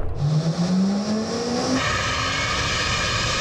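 A 1000-horsepower car revs at full throttle, a loud rising engine tone climbing steadily for nearly two seconds before breaking into a dense, sustained high roar with a fan whirring underneath.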